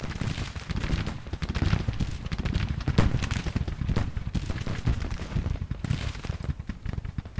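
Continuous rattle of massed musket fire as soldiers shoot at will in the Grand Tactician Civil War battle game, dense overlapping shots with no break.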